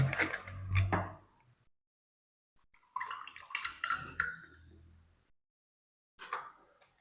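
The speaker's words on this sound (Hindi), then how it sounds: "मैं पानी पीता हूं उतनी देर में।" Close gulping and swallowing of drinking water in two short bursts separated by quiet pauses, with a brief sip at the end and no speech.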